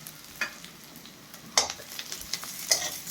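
Carrot pieces going into a pan of frying onion, ginger and garlic while cooking egg fried rice: a steady close sizzle broken by a few sharp stirring and scraping knocks, with no one speaking.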